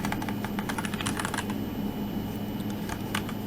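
Fingers type on a computer keyboard while entering code, producing a rapid, uneven stream of close key clicks with brief pauses, steady over a low background hum.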